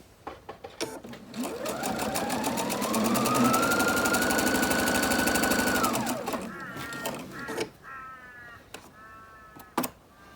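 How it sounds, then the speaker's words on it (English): A sewing machine stitches a bunny-themed quilt, starting with quick separate needle taps. It speeds up into a steady motor whir that rises and holds for several seconds, then slows back to single clicks. A voice speaks near the end. "All right, I'm going to continue sewing."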